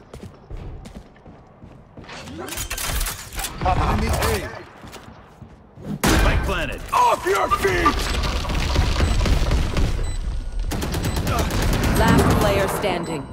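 Video game gunfire, sharp loud shots and booming bursts clustered in several volleys with short lulls, mixed with mechanical clanks and a voice talking over the action.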